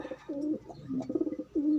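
Pigeons coo in soft, low, rolling calls, a few repeated phrases close by with quiet pauses between.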